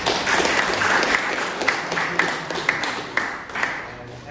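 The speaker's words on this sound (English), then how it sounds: "I think we can have a round of applause for him" A group of people claps in applause, a lively burst of hand claps that gradually tapers with scattered sharper claps near the close.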